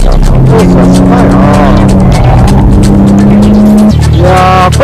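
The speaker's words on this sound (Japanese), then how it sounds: "Shinichi Yamaji is in the 420 horsepower Porsche Turbo." A 420-horsepower Porsche Turbo races hard around a track, its engine roaring loud and close, holding a high pitch before an abrupt shift near the end, with someone talking over it.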